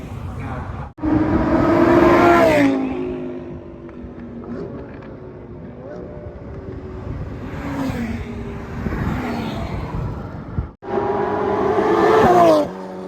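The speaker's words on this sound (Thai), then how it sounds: "นี่ครับตอนนี้ชาวคณะทีมดิกกี้ ยืนดูรถุ่นซูเปอร์คาร์" Supercars racing past at a classic car revival track, engines roaring loudly and rising and falling in pitch as cars sweep by in several close passes, with a quieter stretch between them.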